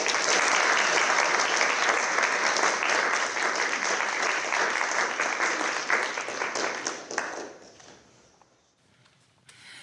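A lecture audience claps to welcome the speaker, a full room of steady, dense applause that holds strong for several seconds before thinning and trailing off into scattered last claps.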